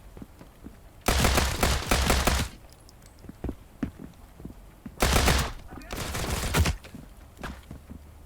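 Bursts of rapid automatic gunfire in the video game Transience, two loud sustained volleys separated by quieter scattered shots, close and dense, with faint talk in the gaps.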